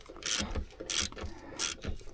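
Bolt on a Range Rover Vogue L322 being tightened with an improvised hexagonal number 10 tool during fuel filter replacement, three faint ratcheting mechanical clicks spaced evenly and heard up close.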